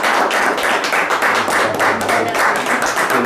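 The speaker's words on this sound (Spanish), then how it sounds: "le quiero pedir un fuerte el aplauso" A local audience in Capilla del Monte claps for young climber Victoria Gimenez at a tribute ceremony. Close, distinct handclaps come in a brisk, uneven patter, with a faint low hum underneath.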